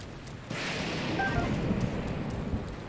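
In Zelda: Breath of the Wild, steady rain hisses, and a low rumble of thunder swells in partway through. The storm stays fairly faint and even, with no talk over it.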